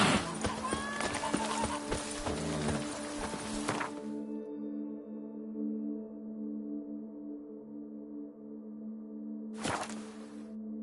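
Horse hooves clip-clopping at a gallop with a whinny in the video game The Witcher 3: Blood and Wine, dense and close for about four seconds, then a sustained musical drone with a brief rush of noise near the end.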